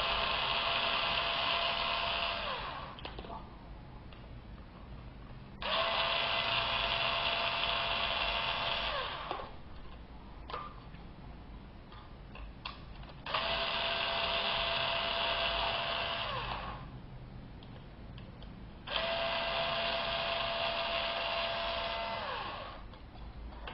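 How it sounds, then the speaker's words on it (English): A small electric screwdriver whirs in four separate bursts of several seconds each while the hard drive bracket screws come out. Quieter handling noise fills the gaps between bursts. "So we have to remove those four screws also."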